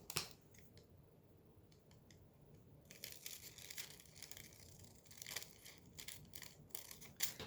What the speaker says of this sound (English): Now I need to cut the length, so about right there.